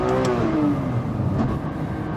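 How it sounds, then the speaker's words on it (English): A 1,400 hp AMS Performance Alpha 12 Nissan GT-R with a failing rear differential gives off a loud engine and drivetrain roar, with a whining tone that slides downward as it winds off. "So, just heard a nasty sound, and I'm guessing it's the rear diff."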